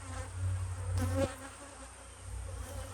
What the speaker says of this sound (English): there's a few bees in there right now